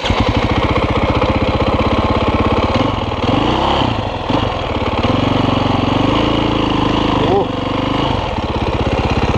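An enduro motorcycle engine starts and runs near the microphone, a loud, steady, rough mid-pitched chugging with small shifts in revs throughout, and voices briefly overlap it.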